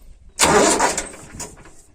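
A tractor engine being started during repair work on a farm catches abruptly and runs loud and close for about a second, then settles into a rough, quieter idle.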